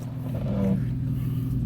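A Toyota Tacoma truck driving off-road in Joshua Tree gives a steady, low engine rumble up close, with a faint higher whine rising briefly in the middle.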